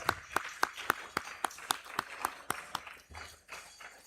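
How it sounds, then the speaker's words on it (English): Rhythmic, fairly faint clapping at a STEAM engine competition and awards event in Uganda, sharp regular claps about three per second, thinning out toward the end. "A round of applause."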